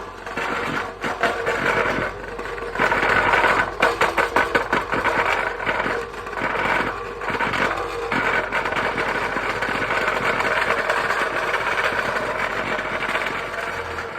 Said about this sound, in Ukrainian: Після цього форма ставиться на ось такий вібратор такий.